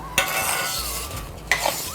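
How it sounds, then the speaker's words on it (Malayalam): Apple pieces fry in ghee in a pan, a soft close sizzle broken by two sharp scrapes of a spoon stirring against the metal. "ഏതാണ്ട് നെയ്യിൽ കിടന്ന ഒരു 10 മിനിറ്റായി ഇങ്ങനെ വറുത്തിക്കൊണ്ടിരിക്കുന്നു"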